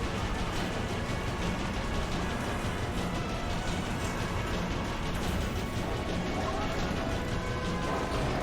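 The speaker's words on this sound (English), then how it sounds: "I keep hearing stock explosion sounds" Explosions and railway-gun fire boom in the Trails of Cold Steel video game, a dense, continuous rumbling and crashing wall of noise that stays loud and unbroken throughout.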